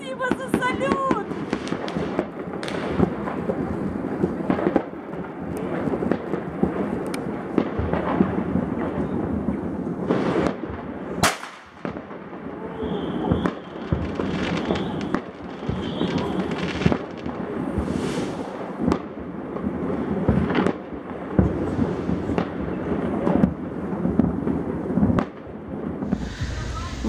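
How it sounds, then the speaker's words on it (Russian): New Year fireworks over the seafront crackle and boom continuously at a distance, with people talking and cheering in between the bursts. "Спасибо за салют!"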